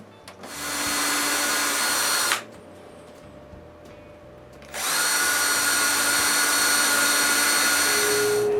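A power drill bores screw holes in a wooden nightstand top, two loud steady whining runs separated by a short quiet pause, close up with no talk.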